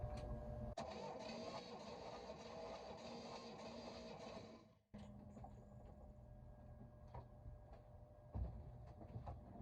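A boat engine with water in its oil cranks over during a compression test, a faint, steady mechanical churning for about five seconds that stops abruptly and is followed by quieter clicks and hum.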